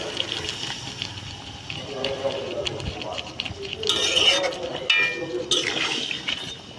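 Water gushes in short pours into a pot of chicken and potatoes on the stove, splashing over a background of cooking noise with brief kitchen clatter and someone speaking in between.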